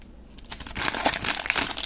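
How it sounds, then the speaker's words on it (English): Plastic wrapping crinkles and crackles up close while a Pop Mart figure is unboxed, a dense run of crisp rustles building in loudness, with no talking. "let me get the plastic out"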